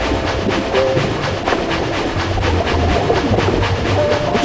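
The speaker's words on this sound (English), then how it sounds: "Spirit Train begins slowing down, coming to a stop where Chris tells him to" A train rolls along with a steady rumble and faint rhythmic clatter, easing down as it slows to a stop, loud and close with no voices.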